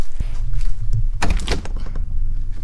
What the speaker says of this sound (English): See if we can go out this door.